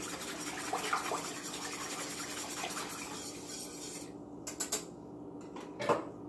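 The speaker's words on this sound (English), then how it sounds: "And just give it one last good whisk." A whisk stirs a Kool-Aid dye mixture in a pot, a soft, steady scraping and swishing close by, with a few faint clinks of metal near the end.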